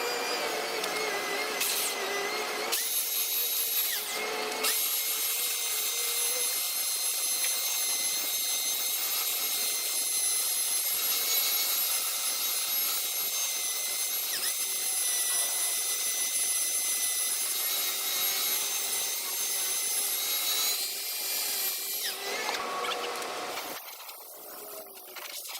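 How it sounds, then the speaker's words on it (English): A power sander works on the transom of a 1986 Sea Ray boat with a steady, high whining drone, sustained for over twenty seconds with brief pauses near the start and a stop at the end. "I gotta do is get this transom sanded down so I could seal it"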